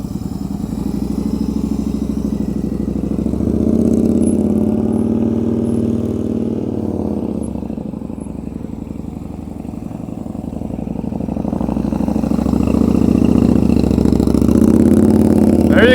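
A motorcycle engine held at steady throttle while being ridden, a loud continuous drone that rises and falls gently over the whole stretch, with no talk.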